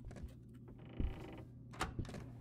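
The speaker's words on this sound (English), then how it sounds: "Door's open." A door creaks open in the Demonologist video game, a drawn-out grinding creak with a couple of sharper knocks and mechanical clunks over low ambient game hum.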